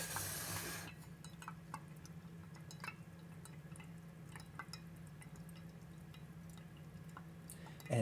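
Coffee pressed slowly through an inverted filter: a faint, steady trickle with soft drips and light hiss continuing quietly after a brief louder rush at the start.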